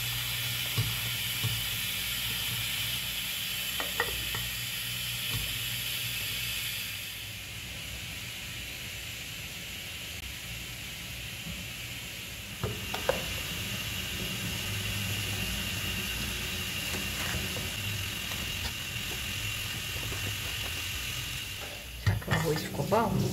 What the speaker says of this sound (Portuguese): Agora deixa ele cozinhar junto para pegar o gosto.